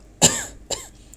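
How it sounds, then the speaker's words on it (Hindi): Two sharp, loud coughs from a nearby man, about half a second apart, each a harsh burst fading quickly, with no talk between them. "तेज़ आवाज़ करने से खांसी ज़्यादा ही बढ़ रहा है"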